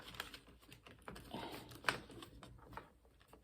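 Tarot cards being shuffled by hand, the deck feeling stuck: faint, irregular papery clicks and soft patters close by, with one sharper snap midway through.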